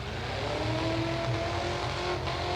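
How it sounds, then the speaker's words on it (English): A race car at a Bash For Cash event revs hard with its right rear tire spinning, a loud sustained engine drone holding steady throughout, heard from a moderate distance. "So that is the noise, the revs that you're hearing is Richard Hilton."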